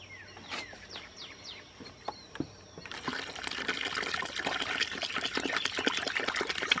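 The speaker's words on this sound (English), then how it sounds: "so I'm gonna put a good bit of water at first" Water is poured into a mixture for making over an old flower pot, a close, steady splashing trickle that gets louder and fuller after a few seconds, with a few sharp taps and bird calls early on.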